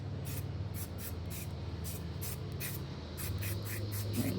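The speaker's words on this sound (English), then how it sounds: "And I definitely want to spray some on this." A spray can applies adhesion promoter to a metal piece in a series of short, evenly spaced hissing bursts, about a dozen quick sprays in a row over a low background hum.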